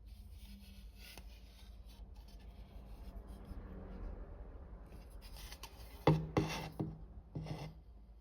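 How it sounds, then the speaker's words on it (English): A freshly 3D-printed plastic model has stuck plastic scraped and rubbed off, with quiet intermittent scratching that becomes louder, sharper scraping toward the end. "Just need to clean off a bit of stuck plastic."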